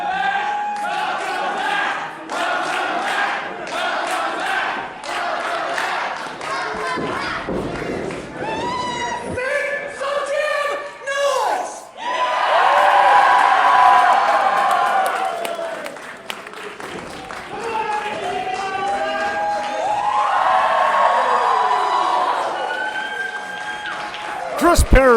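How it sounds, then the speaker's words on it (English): Crowd of wrestling fans at a pro wrestling main event cheering and shouting, a loud sustained roar that swells and surges in waves, with an announcer talking over it. "You can hear the cheer going up from the fans."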